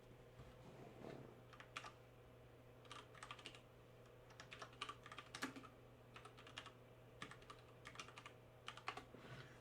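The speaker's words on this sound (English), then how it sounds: "I love typing without seeing what I'm typing." Someone typing on a computer keyboard in bursts of quick, soft keystrokes separated by short pauses, fairly quiet over a steady low hum.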